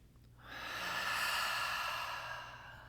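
A long, slow, deep inhalation through the nose and mouth during a guided breathing meditation, soft and close, swelling steadily over a few seconds with no talking.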